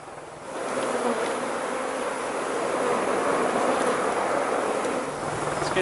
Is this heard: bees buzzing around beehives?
yes